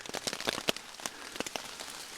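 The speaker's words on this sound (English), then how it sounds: "We're going to test how this tarp is doing in the rain." Rain falls on a tarp at night, scattered drops tapping close by in an irregular patter, faint and with no voices over it.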